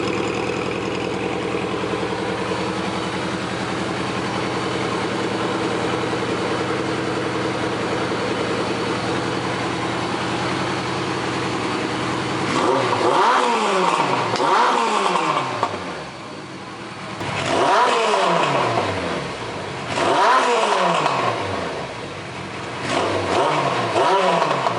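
A Suzuki GS850 motorcycle engine with freshly tuned carburetors idles steadily, then is blipped in several sharp revs that rise and fall, each throttle burst clear and close with no talking.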